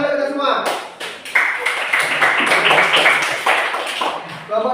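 A group of elementary pupils clapping together in a classroom, a short burst of clapping in the middle, with a voice talking before and after.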